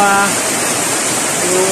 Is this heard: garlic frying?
no